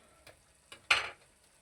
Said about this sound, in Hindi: अब एक दफ़ा हम मिक्स करके इस पर ढकना लगा देंगे।